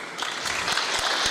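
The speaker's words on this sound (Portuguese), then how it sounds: "E palmas pelo teu resultado também" Audience applause during a Portuguese-language legal debate, a dense, steady patter of many hands clapping at moderate loudness throughout, with no speech over it.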